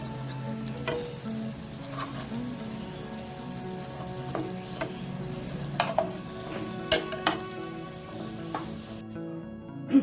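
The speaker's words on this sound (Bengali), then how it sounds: "উল্টে আরেকটা পাশ ভেজে নিচ্ছি" Balls of semolina and mashed potato deep-frying in hot oil, a steady close sizzle with scattered crackles and a few sharp pops and scrapes as they are turned, no voices.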